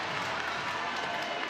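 A softball stadium crowd at a Georgia vs Oklahoma college game roars after a home run, a loud, steady wash of cheering and clapping with no pause.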